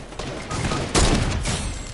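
Shooter video game gunfire, a dense rattle of shots topped by one louder blast midway, with no voices.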